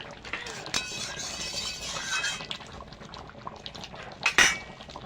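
A spoon stirs an egg, potato and masoor lentil curry in a pot, with soft scraping and metal clinks over a faint bubbling simmer and a sharper clank near the end.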